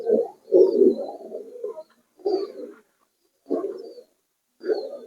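Pigeons in a loft, including golden and high-flyer birds, cooing close by in four or five distinct bursts separated by short silences, clear and without talk.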